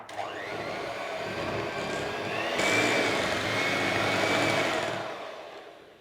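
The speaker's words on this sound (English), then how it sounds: "we're going to mix this now for about 2 minutes" Electric mixer whirring steadily through coffee buttercream frosting for walnut cupcakes, with a small splash of cream added, a continuous motor hum that rises slightly midway and then winds down near the end.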